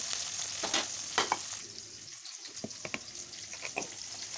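Chopped garlic, dried red chillies, small shallots and curry leaves fry and crackle in hot oil for a village-style fish gravy, with a steady close sizzle, scattered pops and a few stirring scrapes.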